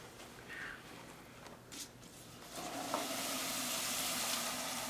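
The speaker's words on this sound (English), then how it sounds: "They're 300 degrees hotter than the boiling point of liquid nitrogen, making the nitrogen boil." Liquid nitrogen boils around hot flowers dipped into it, starting as a quiet sizzle and building into a steady, fairly faint hiss that continues alone without speech.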